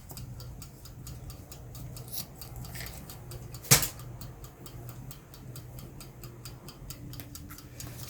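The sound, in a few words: scissors cutting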